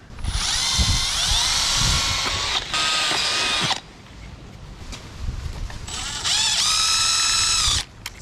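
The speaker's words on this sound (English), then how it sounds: "So now you drill a hole there and there." A power drill bores mounting holes for a Onewheel sensor in two long, loud whining bursts, with rising motor pitch, separated by a quieter stretch of handling noise.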